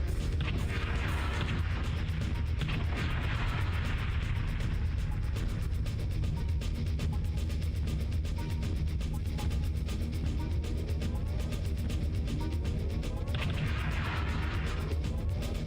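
Missile launches and impacts in MechWarrior 2, a steady barrage of booms and rumbling blasts over continuous engine drone, moderately loud and unbroken, with no speech.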